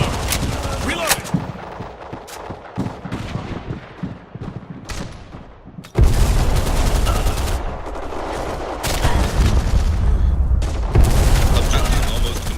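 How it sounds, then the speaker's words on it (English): Gunfire and a loud blast in the shooter Black Squad, with rapid shots early on, then a sudden heavy boom that leaves a sustained rumble under continuing fire. "Grenade. Single grenade!"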